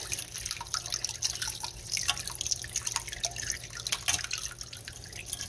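Water trickles and drips from a tap while a boiled egg is peeled under it, a steady close splashing with small irregular drips, no talking.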